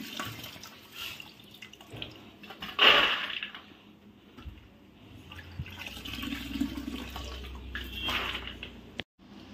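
Water pours and splashes in short bursts, with one louder gush early on and softer swishing of wheat grain being rinsed afterward.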